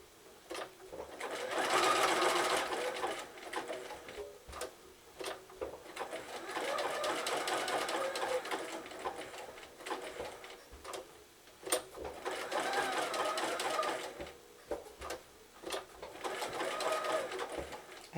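A sewing machine stitches a zig-zag applique on fabric bunting, running in bursts of steady rapid whirring with short pauses between, close and clear.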